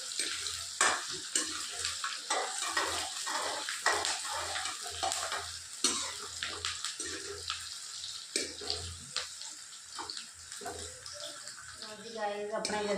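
Onions sizzle and get stirred in a pan while okra curry is being cooked, with repeated scraping strokes over a steady frying hiss and some splashing, water-like clatter. Tonal music plays softly underneath.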